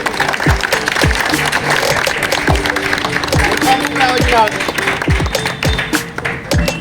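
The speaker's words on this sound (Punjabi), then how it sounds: "ਕਲੈਪਿੰਗ ਸਾਰੇ ਜਣੇ ਕਲੈਪਿੰਗ ਕਰੋ" At a school ceremony, an audience claps in scattered, uneven hand claps and taps, close and fairly loud, under a voice speaking throughout.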